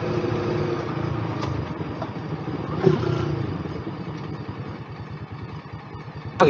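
A Yamaha YZF-R3 or Indian Scout Bobber motorcycle idles close by with a steady, rapid low throbbing pulse and faint mechanical clatter, running alone.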